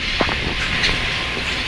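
A PeruRail train coming to a stop at Machu Picchu gives off a loud, steady rumble and rushing roar close by, with no voices.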